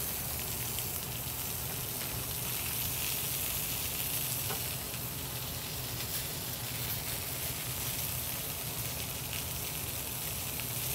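Meat searing in a hot pan: a loud, steady, unbroken sizzle with fine crackle runs the whole time, close-up and with no talking.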